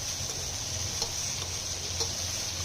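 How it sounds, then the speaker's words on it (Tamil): Sliced okra sautéing in hot oil for an okra tamarind curry, giving a steady soft sizzle with faint clicks of a spoon stirring now and then, close and fairly quiet throughout. "நறுக்கிய வெண்டைக்காயை போட்டு நல்லா வதக்குங்க"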